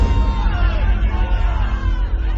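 An angry crowd in a Bible drama shouts and yells together, a dense, continuous hubbub of many voices that stays loud and close throughout the short stretch.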